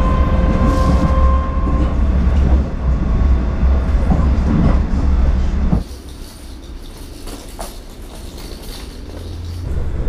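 A Moscow Metro Butovskaya line train, running at no more than 30 km/h, rumbles loudly past with a steady roar and rattling, then the noise drops suddenly to a quieter hum and faint clatter.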